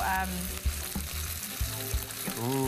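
Garlic aromatics sizzle in a hot pan with soy sauce, a steady loud frying hiss broken by a few stirring knocks, with brief talk at the start and end.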